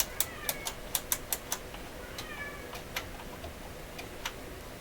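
A cat meows softly indoors, a few faint repeated calls mixed with quick ticking clicks, quiet and alone with no talk.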